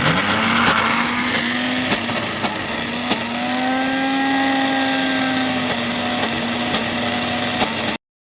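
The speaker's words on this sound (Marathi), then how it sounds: "थोडं पाणी वतायचं आणखी एकदा मिक्सरवर फिरवून घ्यायचं" A kitchen mixer grinder churns cream into butter with a loud, steady motor whine that holds unbroken for about eight seconds before cutting off abruptly.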